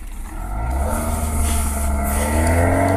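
A 2005-2011 Kia Rio engine idling steadily during an exhaust check, a close, even low hum with a smooth, constant drone and no revving.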